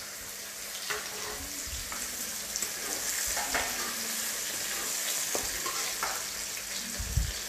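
Onions and cumin seeds fry in oil for an Assamese catfish and herb dish, giving a steady, moderate sizzle with small pops and occasional stirring clatter.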